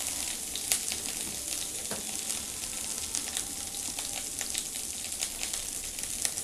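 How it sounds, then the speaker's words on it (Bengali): Turmeric, chili powder and cumin paste sizzle and fry steadily in a hot pan for a pumpkin-and-yogurt dish, a close, continuous crackle with no talking. "দিয়ে মশলাটা কষিয়ে নেব"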